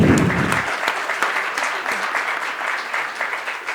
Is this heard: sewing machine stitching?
no